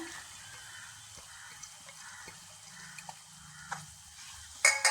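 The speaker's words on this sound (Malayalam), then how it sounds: "വെളുത്തുള്ളിയും ഇഞ്ചിയും ഒക്കെ ഒന്ന് വാടി വരുമ്പോൾ അതിലേക്ക് മൂന്ന് സവാള അരിഞ്ഞത് ചേർത്ത് കൊടുക്കാം" Three chopped onions tipped into garlic and ginger frying in a pan for a spicy black chicken curry; a faint, low sizzle with light intermittent clicks and a louder clatter at the very end.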